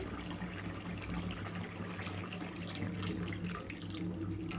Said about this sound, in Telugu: నేను ఒక గ్లాస్ వరకు అయితే వాటర్ అయితే పోస్తున్నాను అండి వేడి వాటర్ అండి